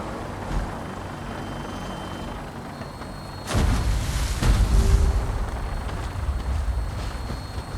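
Gunship helicopter in the Fallout 4 video game, a low rumbling rotor roar that kicks in abruptly partway through and holds steady and loud, with no talk over it.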